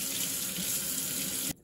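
Tap water runs steadily into a sink, rinsing a removed part of a Levoit LV600S humidifier; the close, continuous hiss and splash cuts off abruptly near the end.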